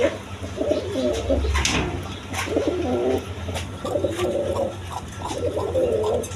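A pair of Pashiraj pigeons coo repeatedly in soft, throaty bursts, close by, over a low steady background hum with a few brief sharp noises between calls.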